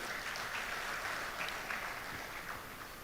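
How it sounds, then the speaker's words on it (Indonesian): Distant, faint applause from a seated audience at a comedy event, steady and even with no talking over it. "Tepuk tangan buat Bapak Ibu sekalian."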